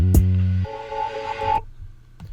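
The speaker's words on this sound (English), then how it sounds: "that basically gave it sort of a harmonic, you know, sound like this." A short burst of layered, pitch-shifted vocal harmony tones rings out with a stacked harmonic quality, then cuts off into near silence.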